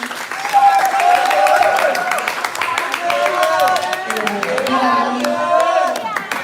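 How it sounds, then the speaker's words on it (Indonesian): Loud applause from an audience fills the room, with crisp individual claps, cheering and whoops mixed into a sustained burst, and some voices heard through it. "Tepuk tangan"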